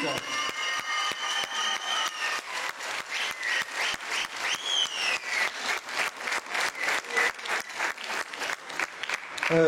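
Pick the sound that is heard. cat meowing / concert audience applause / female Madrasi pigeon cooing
concert audience applause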